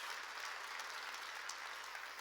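A church congregation claps together in a steady, even wash of applause, heard from a distance and fairly faint, with no speech over it.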